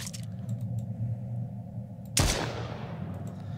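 A single sharp gunshot from a weapon in the survival video game Mist Survival, sudden and loud against a low steady background hum, with a brief trailing decay and no talk.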